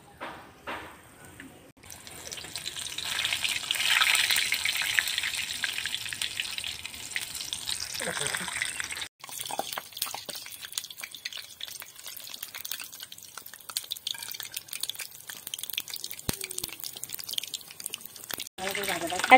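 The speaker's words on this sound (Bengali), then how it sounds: "বোটাটা ছাড়া ফুলগুলো ডুবিয়ে এমনভাবে ভেজে নেব।" Besan-battered bokful (agathi) flowers frying in hot oil in a village-style kitchen, a close steady sizzle that swells when the flowers go in, then settles into quieter crackling with faint clinks.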